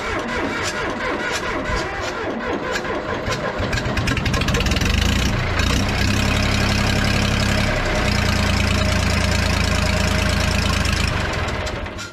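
A 1970s John Deere 310 backhoe, left sitting for years, cranks with uneven chugging and knocking, then catches and settles into a loud, steady diesel idle, close by and running alone for several seconds.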